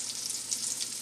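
Salmon croquettes frying in a pan give a steady, soft hiss of sizzling oil, continuous and fairly quiet, with no talking.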